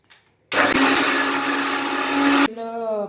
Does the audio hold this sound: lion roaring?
no